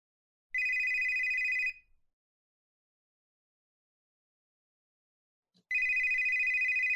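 A telephone rings in two separate bursts, each about a second or more of steady electronic trilling, with a long silent pause between them.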